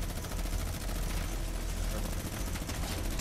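Dense battlefield gunfire in a first-person shooter game, continuous loud volleys and shots packed together, with sniper fire mixed into the constant din and voices talking over it.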